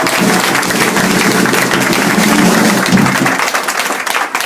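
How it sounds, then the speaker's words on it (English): Loud, dense applause fills the room at a jazz band concert, a crowd clapping steadily with a few cheers mixed in, tapering off slightly at the end. "Another round of applause."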